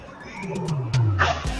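Busy background ambience of Tiong Bahru Market, a hawker food centre in Singapore, with a steady crowd murmur and clatter running throughout.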